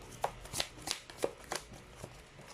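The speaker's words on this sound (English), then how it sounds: "So let's pull up another set of cards here." A deck of tarot cards is shuffled by hand in a series of crisp riffling bursts, roughly six quick snaps spaced irregularly over a couple of seconds, close and fairly quiet, with no talking.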